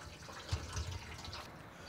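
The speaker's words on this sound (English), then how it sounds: "And up there is a filter which takes out all the gunk so that just pure water goes" Rainwater from a roof runs through a gunk filter into a 1,000 litre IBC water butt, heard as a low, steady trickle and splash with a couple of slightly louder drips, close by and faint.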